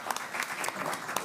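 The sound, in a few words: audience clapping at board meeting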